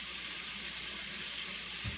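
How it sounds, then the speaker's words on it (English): Meat sautéing in a pan, a steady broad sizzle with a soft low thump near the end, no talking. "So I'm just going to pop these on here and saute them."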